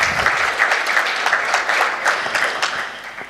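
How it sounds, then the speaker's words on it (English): A room full of people breaks into steady applause to welcome a speaker at a semantic e-commerce talk, many hands clapping densely and evenly at close range throughout. "Please have a welcome for him with warm applause."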